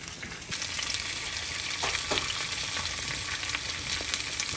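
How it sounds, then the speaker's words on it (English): Meat sears in a hot pan with a loud, continuous sizzle and crackle, close up and steady throughout with occasional sharper pops, no voices. "Look at that sizzle going."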